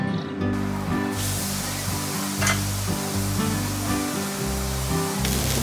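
Fresh-ground chuck and brisket burger patties searing under a burger weight on a hot griddle, making a loud, steady, close sizzle that holds throughout with no talk.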